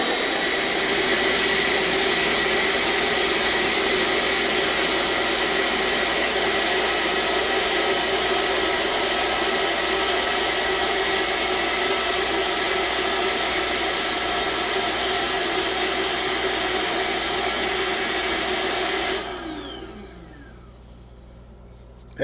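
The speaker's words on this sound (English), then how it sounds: "So this is about the same sound as a vacuum cleaner." An electric air pump blows steadily into an Airelax air mattress, a loud, constant whining roar like a vacuum cleaner lasting about nineteen seconds before it cuts off and winds down.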